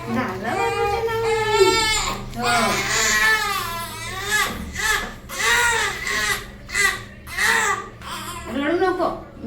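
A young child cries loudly and continuously in sobbing, wavering bursts that rise and fall in close, unbroken waves during a bath at home.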